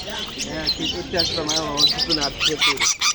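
Several birds chirp and squawk close by in quick, overlapping bursts at a bird market in Andijan, with a person talking underneath.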